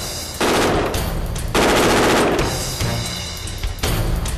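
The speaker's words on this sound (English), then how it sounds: "An AR rifle that can fire thousands of rounds without cleaning." A Sig Sauer SIG 516 AR-15 style rifle fires rapid bursts, loud and close, with several strings of fast shots separated by short pauses.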